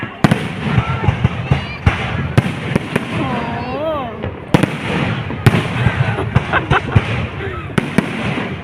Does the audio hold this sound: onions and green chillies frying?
no